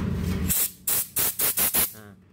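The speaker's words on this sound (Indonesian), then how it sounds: "Oke, kita semprot nih" Cleaner sprayed into the oil passages of a motorcycle engine, a short sustained hiss followed by four quick bursts of close, sharp spraying, with a wet sputter trailing at the end.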